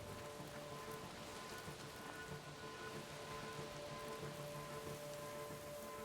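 Steady rain in the video game Horizon Forbidden West on PS5 hisses continuously at low volume, an even wash of falling drops with no voices over it.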